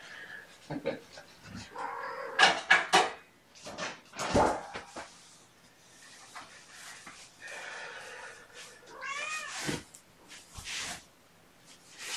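Kittens give several short, high mews and squeaks in bursts, heard close up with rustling and thumps between them, while a person talks over parts of it.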